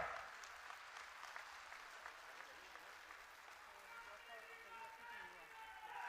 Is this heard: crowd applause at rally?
yes